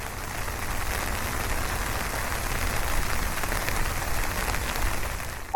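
Steady rain falling on a surface at an old house, a constant even hiss of drops that stays moderately loud throughout with no voices.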